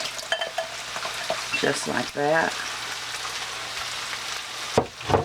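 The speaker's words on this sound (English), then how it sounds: "I'm going to pour my gravy mixture in with that hot water" Gravy mixture poured into hot water in a slow cooker makes a continuous hissing, splashing wash with light stirring clinks, close by; a voice speaks briefly over it.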